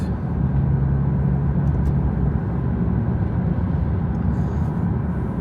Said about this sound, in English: BMW 630i. It's a straight six 272 brake horsepower engine.